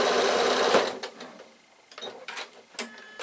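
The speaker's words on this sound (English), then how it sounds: "we're going to sew the lining directly on top of that row of stitches" Sewing machine stitching lining onto a piped bag with a glasses case runs in a steady loud whir for under a second, then stops, followed by quieter short handling clicks and rustles.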